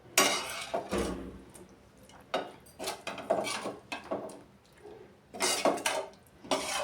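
Food is scraped and lifted from a pot onto another plate with a metal utensil, giving irregular close clanks, scrapes and rubbing knocks of metal on cookware, with no one talking.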